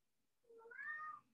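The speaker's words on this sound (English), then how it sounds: "I'm sorry if you can hear my kitty again." A pet cat gives a single soft meow, rising then falling, about a second long, faint and somewhat distant in an otherwise quiet room.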